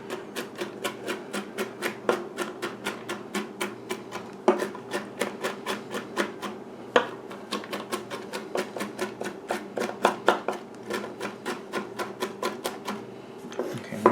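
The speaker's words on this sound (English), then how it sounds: "Once your walnut pieces are chopped up a little bit more" Knife chopping walnut pieces on a board, a quick steady run of sharp close taps repeating many times with brief pauses and a few harder strikes, no voices.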